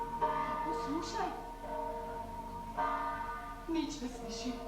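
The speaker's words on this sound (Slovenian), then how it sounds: "polnočnici zvoni" Church bell tolling for midnight mass, heard as a few spaced resonant strikes with long ringing decay under quiet dialogue and music.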